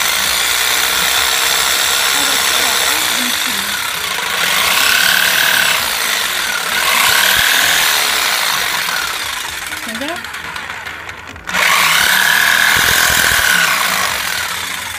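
A DeWalt scroll saw cuts small letters out of MDF, a loud continuous buzzing rattle that surges and drops with brief pauses, with people speaking over it.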